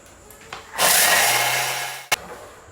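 A loud whirring roar from a Thermomix running at speed 10 for a bit over a second. It stops abruptly and is followed by a sharp click.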